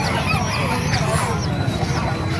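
Chickens cluck and chirp at a market in Calumpit, several birds calling over a steady background of people talking.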